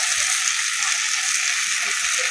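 Spice masala frying in oil with onion and tomato for a Bengali fish curry, a steady close hiss and sizzle running evenly throughout with no voices.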